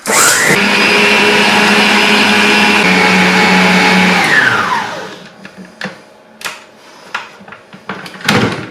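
Stand mixer whisking Swiss roll batter to a thick mousse, a loud steady motor whine with strong harmonics for about four seconds before winding down, followed by scattered clatter and knocks of the bowl.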